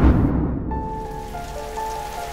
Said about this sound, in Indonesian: Itu udah hujan itu udah mulai tebel bang, udah mulai deras ya bang